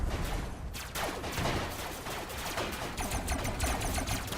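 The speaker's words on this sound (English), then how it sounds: "Oh, I'm being shot at." Gunfire aimed at the player in the video game Robocraft crackles in rapid, dense bursts of shots that go on through the whole moment, with no clear pauses.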